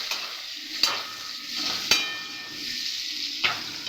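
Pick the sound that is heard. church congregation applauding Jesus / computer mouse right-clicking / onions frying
onions frying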